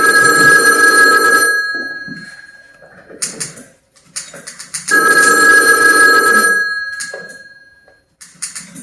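A telephone bell rings loudly in two long bursts with a pause between, and brief clatter and small sounds fill the gaps, during a stage play performance.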